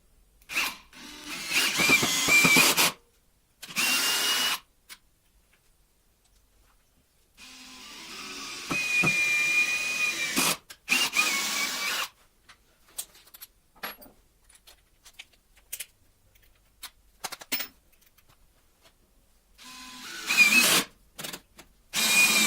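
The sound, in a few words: DeWalt drill driving screws into solid wood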